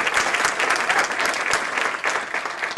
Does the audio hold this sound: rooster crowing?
no